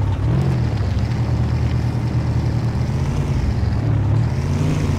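The 1975 K5 Blazer's engine in the Spintires off-road game drones loud and close, with the pitch rising and falling as it revs before settling into a steady roar.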